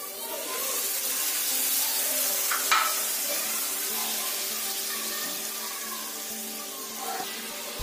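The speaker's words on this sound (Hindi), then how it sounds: "मैंने टमाटर गलाने के लिए पानी डाल" Water poured into a hot pan of tomatoes being cooked for poha, a steady hiss and sizzle with faint stirring clinks, continuous and close throughout.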